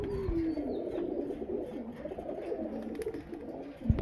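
A breeder pigeon, kept among high-flyer and low-flyer pigeons in Krishnagar, Nadia, coos softly and close by in a low, rolling, continuous murmur.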